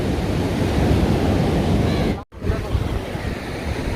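Ocean surf at Kovalam Beach roars steadily and loudly with a broad wash of breaking waves, cut by a brief dropout midway before the rush resumes.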